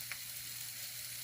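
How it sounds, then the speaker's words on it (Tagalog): Sweet potato frying in olive oil in a pan, a steady soft sizzle and crackle that holds evenly throughout with no voices. "Kamuti. Prito sa sa olive oil."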